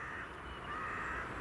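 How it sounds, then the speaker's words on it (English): A crow caws faintly, low in a steady wash of outdoor background noise, with no voices. "I really like crows."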